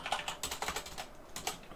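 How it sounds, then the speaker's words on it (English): Typing on a computer keyboard, a quick irregular patter of soft key clicks close by, quiet and without voices. "I'm just going to open this up on my second monitor and then just type these out as we go"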